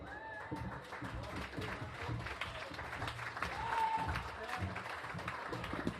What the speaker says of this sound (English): Keep the round of applause going for Michael and Colleen